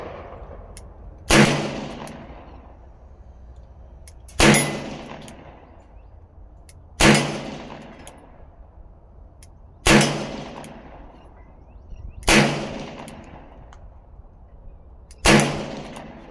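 A 40-year-old Ruger GP100 revolver fired double action, six loud sharp shots spaced about three seconds apart, each trailing off in a brief outdoor echo.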